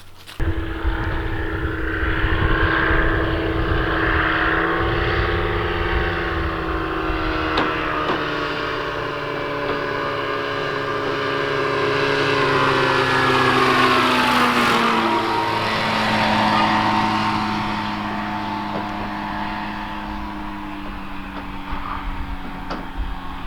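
Phantom X1 ultralight aircraft engine droning steadily with strong harmonic tones, swelling and shifting in pitch around the middle as it revs, then settling back to a sustained buzz, close and loud with no talk.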